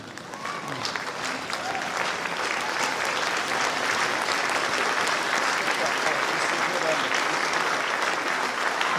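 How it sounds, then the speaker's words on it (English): An audience at a high school spring concert and auditorium dedication applauds, a dense, sustained roar of many hands that builds slightly and holds steady for several seconds. "please stand and give her a rousing hand of applause"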